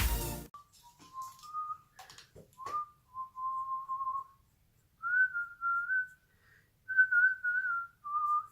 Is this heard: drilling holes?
no